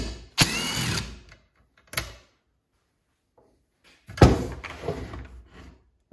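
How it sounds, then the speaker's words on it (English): Ratcheting clicks and grinding from a Torx T27 driver backing out anti-vibration spring screws on a Stihl MS261C-M chainsaw, heard in two separate bursts with quiet gaps between them, close and fairly loud. "I'm gonna use the T27 here for the anti-vibration spring"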